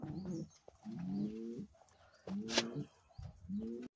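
Satin pigeons coo close by in four rounded, throaty phrases separated by short pauses, with a faint higher chirp in the background.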